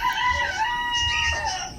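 Brahma chickens crowing and clucking at a backyard poultry pen, several birds calling in overlapping, fairly close bursts with no talk.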